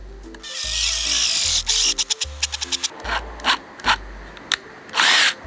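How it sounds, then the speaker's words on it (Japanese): A power drill bores a 25 mm deep pilot hole for a hanger bolt, its motor whining in repeated bursts with short pauses between, close and loud, with no speech. "このドリルの 25mm の深さにマスキングを貼って、 でこの深さまで下穴を開ける"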